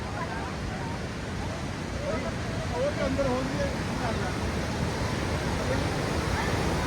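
A river rushing at Sonamarg in Kashmir, a broad steady roar of flowing water with a person's voice faintly audible over it partway through.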